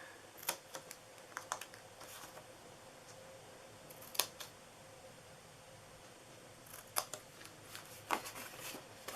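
Scissors cut through a scored paper treat box, with repeated close, crisp snips arriving in short bursts between quiet pauses.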